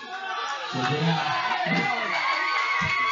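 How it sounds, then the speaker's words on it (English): Spectators cheer and shout in support of a competitor at a ninja obstacle course championship, a steady roar of crowd noise with brief louder bursts throughout. "Crowd supporting her"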